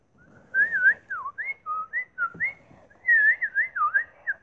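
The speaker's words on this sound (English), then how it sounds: "I was trying to whistle the Angry Birds tune" A person whistles the Angry Birds tune alone, producing a string of short bright melodic phrases with brief pauses between them and a slightly unsteady pitch.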